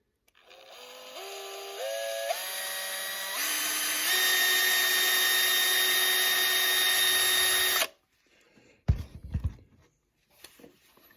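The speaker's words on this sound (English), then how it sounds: "So I'm just going to do a quick hole drill." A power drill spins up in steps to a steady high whine for several seconds, drilling a small hole in a wall, then stops, followed by a few scraping knocks.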